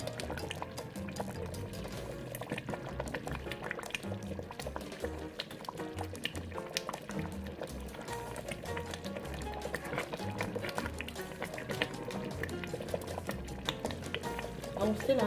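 Egusi soup bubbles in a pot on the stove, a continuous close boiling and gurgling of thick liquid with small pops, steady throughout at moderate loudness.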